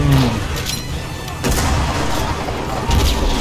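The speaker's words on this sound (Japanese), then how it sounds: "敵の銃声の音が相当多いですね" Dense, continuous rattle of distant gunfire with a few heavier booms in the game Enlisted, a noisy battlefield din that never lets up.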